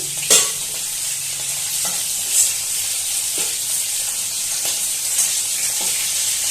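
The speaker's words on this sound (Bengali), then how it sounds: "যেটুকু ডিম বেরিয়েছে মাগুর মাছের পেট থেকে তো সেটা পুরোটাই ভেজে নিচ্ছি" Magur catfish roe frying in oil in a pan, a loud, steady hissing sizzle close by, broken by a few soft stirring scrapes every couple of seconds.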